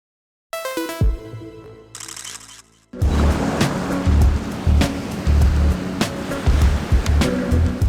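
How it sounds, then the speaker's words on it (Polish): Ocean surf rolls in steadily, waves breaking and washing in a continuous roar, preceded by a short rising musical jingle. "Ach, morza szum, ptaków śpiew, słoneczko."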